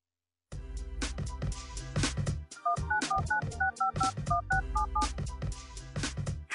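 A rapid run of telephone keypad dialing tones, about a dozen short beeps in an even rhythm, played over loud music in a demonstration of getting email by phone.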